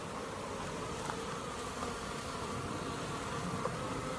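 Honeybees from a drone-laying colony buzz around a hive entrance in a steady, dense hum, fairly faint and continuous, with no one talking.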